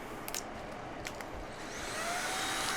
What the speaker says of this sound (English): that is definitely a quiet vacuum